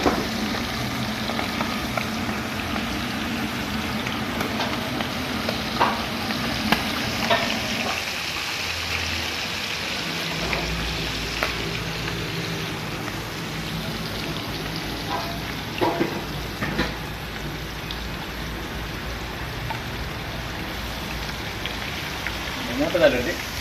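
Octopus deep frying in hot oil, a continuous rain-like crackle and sizzle that shifts in texture midway as pieces move in the oil, with people talking nearby over it throughout.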